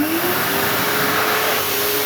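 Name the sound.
automatic hand dryer running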